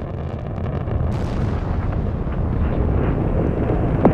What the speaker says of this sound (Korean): 전 세계가 지켜보는 가운데 갑자기 폭발을 합니다